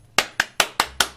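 Five sharp, evenly spaced hand claps ring out in quick succession, close by with no voices.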